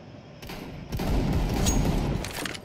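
Dense, rapid gunfire from the shooter game CS:GO, including pistol and shotgun shots, erupts in a loud, continuous burst of overlapping bangs that fills most of the moment after a brief quieter start.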